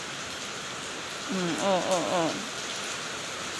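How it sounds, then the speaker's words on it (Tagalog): Heavy rain pours down steadily and close by, a dense wash of hiss, while a voice briefly murmurs partway through. "Malakas yung ulan."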